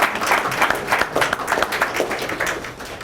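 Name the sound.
audience applause at city commission meeting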